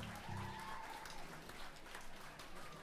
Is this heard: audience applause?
yes